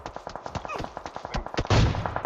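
Gunfire in the video game PUBG Mobile, a quick run of sharp, close shots in an uneven burst, with one heavier blast near the end, no speech.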